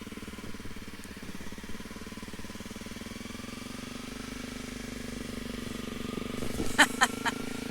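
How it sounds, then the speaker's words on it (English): A Honda CRF250L Rally motorcycle engine idles loudly and steadily at close range with a fast, even thrum, joined near the end by a few sharp clicks or taps. "So one thing about this bike, it's freaking loud. You hear it?"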